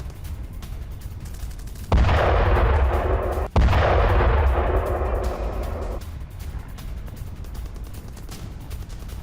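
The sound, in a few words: explosions from Ukrainian ground drone attack on railway underpass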